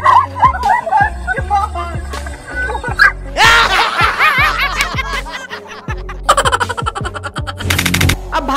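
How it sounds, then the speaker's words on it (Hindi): A dog barks and yips in quick bursts amid laughter and busy background music, close and loud. "जब बाहर आकर भौंकता है"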